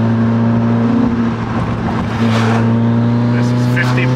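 Turbocharged 4A-FE Toyota MR2 Mk1 AW11 accelerating in third gear at about 7-8 PSI boost, a loud steady engine drone with rising intake and turbo whistle near the car throughout.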